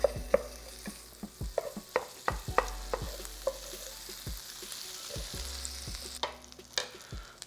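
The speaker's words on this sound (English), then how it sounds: "We are gonna drop in about a tablespoon of some unsalted butter right into the pan, as well as a little bit of some garlic paste." A tablespoon of unsalted butter and some garlic paste fry in a hot pan for bourbon glazed chicken wings, with a soft sizzle under a series of sharp clinks and scrapes from a utensil, close and quiet, without speech.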